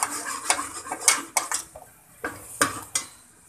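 Garlic going into a pan of eggplant for a pickle-spiced bharta: a utensil scrapes and clatters against the pan in quick, irregular strokes, with a faint sizzle beneath.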